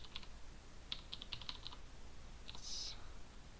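Someone types on a computer keyboard in short, faint bursts of crisp key clicks, ending in a brief flurry, in an otherwise quiet room.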